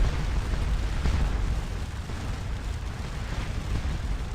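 Howitzer canister fire in the Napoleonic battle game Scourge of War Waterloo makes a dense, continuous roar of overlapping booms and rumbling blasts, with no pauses across the whole stretch.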